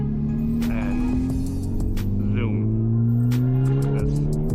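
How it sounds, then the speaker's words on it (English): A car's engine drones steadily and rises in pitch as it accelerates hard in race mode on a rough road, close and continuous, with faint interior noises. "I can just go full on race mode"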